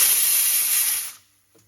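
A pressure cooker on a gas stove lets out a loud, steady, high steam hiss that cuts off abruptly after about a second, leaving near silence with a faint small knock.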